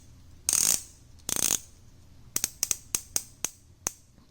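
Ratcheting bezel of an Aragon Parma 2 dive watch being turned: two longer grinding bursts of fine clicks, then a series of about seven sharp, separate clicks spaced across a few seconds, close and crisp, with no talk.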